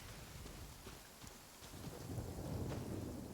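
Thunder rumbles low and heavy under steady rain in the Genshin Impact video game, swelling louder toward the end, with no talking over it.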